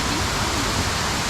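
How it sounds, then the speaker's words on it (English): Sipyen waterfall on Kosrae pours in a steady, dense roar of falling water, loud and close, filling the short stretch with constant broadband rushing. "Is this the biggest waterfall here?"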